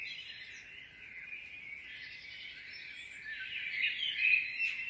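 Dawn chorus at first light, 4:30 in the morning, seen from a back door: a steady wash of high birdsong and chirps, fairly faint and distant, swelling a little toward the end.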